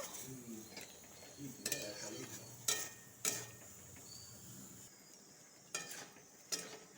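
A vegetable chorchori with mustard paste and tomato being stirred in a pan, soft scraping strokes with several sharper knocks at irregular intervals, quiet and close.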